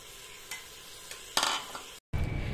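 Soaked, washed lentils go into cooking mutton and get stirred: a low sizzle with a few sharp clinks and scrapes of a spoon against the pot, a brief cut, then frying resumes.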